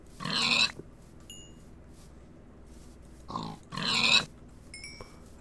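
Pigs in Minecraft give two loud, close oink grunts, separated by a short quiet stretch with faint game noises in between.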